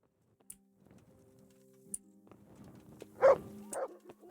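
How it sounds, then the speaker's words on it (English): A dog barks a few times, sharp yips at moderate distance over a low steady hum, with a brief louder bark cluster near the end. "Stop barking!"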